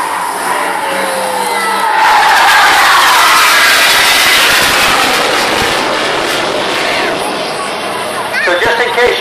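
A Rolls-Royce Avon-powered Hawker Hunter jet performs a flying display at a seaside RNLI fun day, its broad roaring whine swelling loud and steady overhead while a commentator talks over it and a crowd murmurs.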